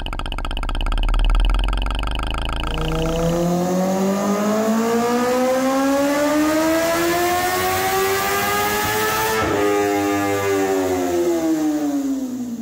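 A four-cylinder flatplane motorcycle engine is simulated with a smooth, even whine that climbs steadily in pitch as it revs. It holds a high tone and then drops off sharply, loud and alone.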